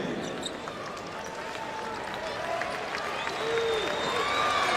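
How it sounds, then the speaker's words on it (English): Michigan fans at an NCAA basketball game against Providence give a standing ovation, a broad, sustained wash of applause that grows slightly louder, with sneaker squeaks on the court and a commentator talking over it. "This Michigan crowd that travels well with this team on their feet in appreciation."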